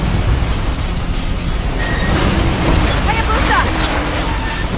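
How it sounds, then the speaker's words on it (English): A monorail crashing and exploding in the video game Ninja Gaiden 3 Razor's Edge, a sustained loud rumbling blast with debris and mechanical clatter filling the whole span. "They're gonna crash the whole monorail."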